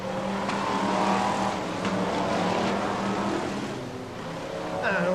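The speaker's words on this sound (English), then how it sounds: "Away we go then, Brisca F1 stock cars" BriSCA Formula 1 stock cars racing at Skegness in 1994, a steady loud engine roar from several cars with a low droning tone and rising revs near the end, with a commentator speaking over it throughout.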